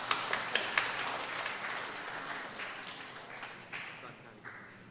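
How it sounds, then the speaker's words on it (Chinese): A church congregation applauds, a dense wash of clapping that starts with a few sharp claps and stays steady before gradually thinning out, with voices mixed in. "让我们用最大的掌声献给阿爸父神"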